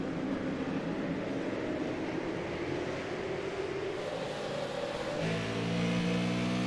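Super Late Model race cars roar around Martinsville Speedway during a heat race, a continuous loud engine drone with rising and falling revs and a sharper pitch change near the end.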